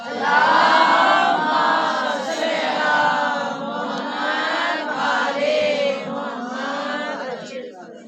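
A congregation at a Muharram majlis in Hammand Ka Chak chants salawat loudly in unison, many voices rising together in a sustained, rhythmic recitation that swells at the start and carries on for several seconds before tapering off.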